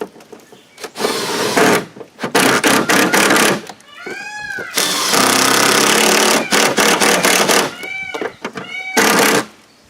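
An impact wrench drives and tightens headlight mounting bolts on a car in loud, close bursts of rattling hammering, with high whirring spin-ups and pauses between several runs.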